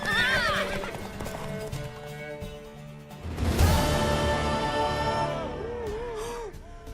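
In The Witcher 3, a horse neighs loudly in a long shaky whinny and then snorts, with hooves clip-clopping steadily underneath and game dialogue voices mixed in.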